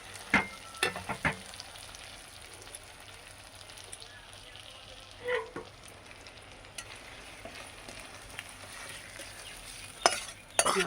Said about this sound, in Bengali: বেগুন দিয়ে মাছের তেল দিয়ে রান্না করলাম